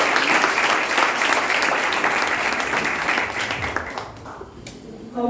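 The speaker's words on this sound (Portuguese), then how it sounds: "Coloque uma salva de palmas para ela." Congregation applause during a church service, a loud, dense round of clapping that holds steady before thinning and fading out toward the end, with faint voices beneath.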